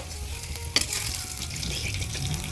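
Sevai vermicelli being roasted in ghee inside a kadhai gives a continuous soft frying sizzle, close by, with one sharp utensil knock early on and no voices.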